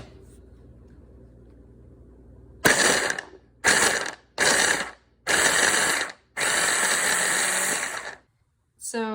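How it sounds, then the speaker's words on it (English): A small food processor whirs in several loud pulsed bursts, blending rinsed canned chickpeas, each burst starting and stopping abruptly against a quiet background. "I've rinsed them and put about half in here, which is like my food processor."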